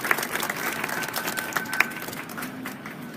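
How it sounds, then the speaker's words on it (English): Audience applause at a science cafe held in a downtown pizza restaurant, a steady patter of clapping that runs the full stretch at moderate level, with a few sharper claps and a faint voice beneath it. "Let's get a big round of applause for Professor Alfred McEwen"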